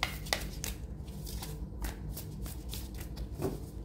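Tarot cards being drawn and handled, giving soft, close rustling and snapping card sounds in a loose, irregular rhythm over a low background hum.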